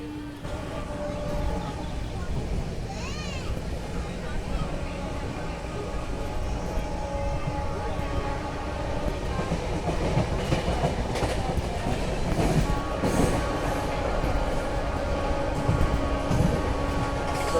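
Steady rumble and clickety-clack of the Jallianwala Bagh Express in motion, recorded from on board as it overtakes a stationary Panipat–Ghaziabad MEMU, with continuous rail and wheel noise rising slightly toward the end.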